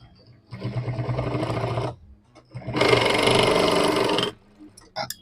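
A sewing machine stitches rexine for a bag in two loud, close bursts of rapid whirring, each lasting about one and a half seconds, separated by a short pause, with a brief clatter at the end.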